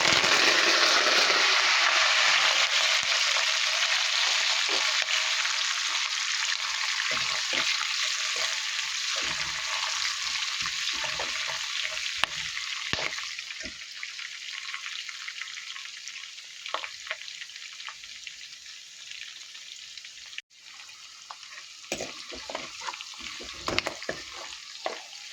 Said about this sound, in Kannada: ಕರಿಬೇವು ಮತ್ತು ಬೆಳ್ಳುಳ್ಳಿ ಹಾಕೋತಾ ಇದ್ದೀನಿ